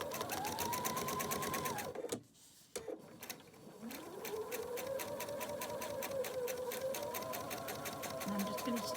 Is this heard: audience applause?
no